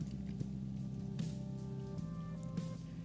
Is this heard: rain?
yes